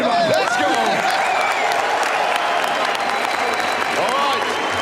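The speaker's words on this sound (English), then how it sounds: "Round of applause, everybody." A big crowd applauds and cheers continuously in a large venue at a Counter-Strike 2 esports tournament, with an announcer's voice ringing out over the noise.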